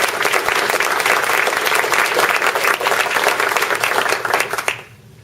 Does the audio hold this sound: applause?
yes